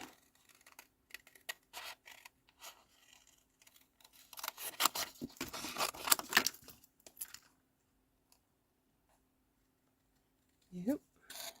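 Scissors snip through stamped paper in a run of short, close cuts that build into a denser burst of cutting, then stop, with a brief voice near the end.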